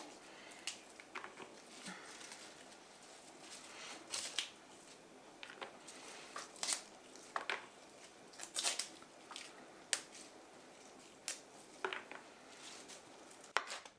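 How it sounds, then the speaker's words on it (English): Fresh cilantro being destemmed by hand in a home kitchen, with soft crisp snaps and rustles of leaves and stems coming in quick irregular bursts, close and fairly quiet. "we need 1 1/4 cup of chopped cilantro. So I'm going to go ahead and destem this"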